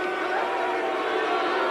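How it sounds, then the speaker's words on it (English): Arena crowd at a 1996 Battlecade Extreme Fighting bout between John Lewis and Johil de Oliveira, voicing displeasure as a steady, dense roar of murmuring and jeering voices at a distance, never letting up. "The crowd's dissatisfaction with the match"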